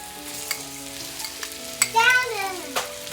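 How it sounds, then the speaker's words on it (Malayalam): Chopped onion and ginger are stirred in a pan for palak paneer, with a soft sizzle beneath a few spatula knocks and a smeared, tonal scrape near the middle; no speech. "എന്നിട്ട് ഇതെല്ലാം ഒരു ബ്രൗൺ കളറായി വരുന്നത് വരെ നല്ലപോലെ ഒന്ന് ഇളക്കി കൊടുക്കാം"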